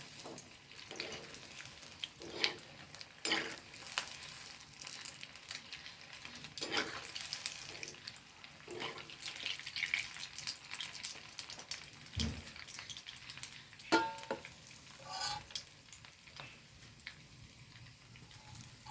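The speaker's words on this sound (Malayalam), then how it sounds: "നമുക്കിതൊന്ന് ഇളക്കി കൊടുക്കേ തിരിച്ചിട്ട് കൊടുക്കാം കേട്ടോ" Potato snack frying in oil in a pan and being stirred and turned, with a soft continuous sizzle and scattered scraping and clinking taps of a utensil at moderate distance, no voices.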